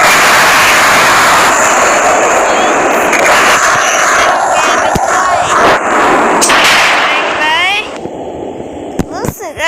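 Loud, dense blasts of C4 explosives in the Melon Playground video game, a continuous roar of booming detonations that thins into scattered sharp bursts near the end.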